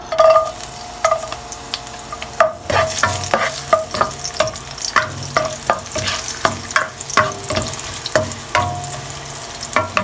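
Garlic sautéing in oil in a pan gives a steady sizzle broken by repeated scraping stirs in a regular rhythm, close and fairly loud, with no talking.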